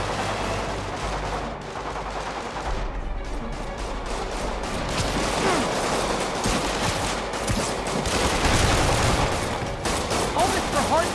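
Dense, continuous gunfire from the Marvel's Spider-Man video game, sustained bursts and volleys mixed with crashes and game effects, loud and close throughout.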